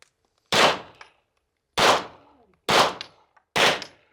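Four loud, close pistol gunshots ring out at a USPSA shooting stage at Pima Pistol Club, each sharp crack trailing into a short echo and spaced about a second apart.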